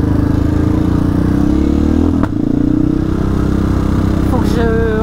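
A motorcycle engine runs loud and close at a motorcyclists' highway protest near Lille. It holds a continuous rough drone with a brief dip midway, then rises in pitch as it revs up toward the end.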